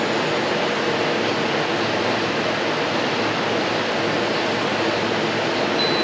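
A window air conditioner's compressor runs during an R-134A recharge as a dense, unbroken rushing hiss, loud and constant from start to finish, alone with no talk.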